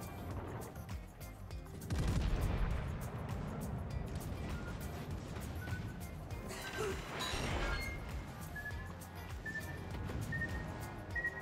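Naval gunfire in World of Warships, heard aboard a Tier VII French premium cruiser: heavy booms and crashes break out over a constant rumbling sea-and-engine bed, with one strong burst early and another midway.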